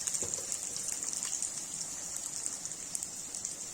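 Onion frying in a pan for shahi paneer, a continuous bright hiss sprinkled with small crackling pops, steady and fairly close, with no talking.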